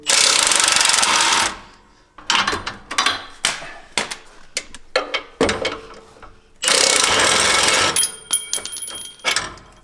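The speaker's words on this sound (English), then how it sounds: "So I'm going to use a large extension on my impact wrench" A loud impact wrench on a long extension hammers at a driveshaft bolt on a Jeep JL, with two long sustained bursts and a string of short rattling pulses and clanks between them.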